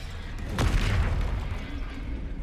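Bombarda blasting spell cast in Hogwarts Legacy: a single deep, muffled boom with a soft rumbling tail, heard once near the middle over a steady low background.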